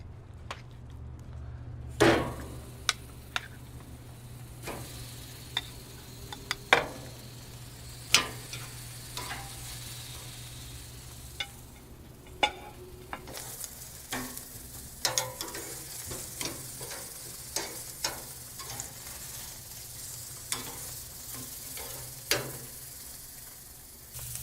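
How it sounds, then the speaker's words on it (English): Ribeye steaks searing over a hot charcoal fire with white coals and open flame give a steady low sizzle, broken by scattered sharp clicks and clanks of grill tools and grate near the start. "We're going to go ahead and throw these ribeyes on our hot fire."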